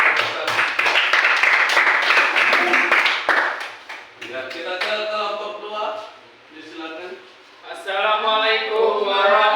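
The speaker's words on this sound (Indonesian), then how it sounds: "kita berikan aplaus dulu untuk kelompok 1" Classroom applause for a student group after their presentation: a few seconds of brisk clapping, then people talking.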